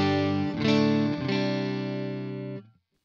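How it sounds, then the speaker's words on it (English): Electric guitar played through a Waves GTR amp simulator with all pedals switched off, a few sustained chords struck with mild distortion and ringing out loud and alone before a quick cutoff. "the pedals are switched off, so the amp on its own sounds like this."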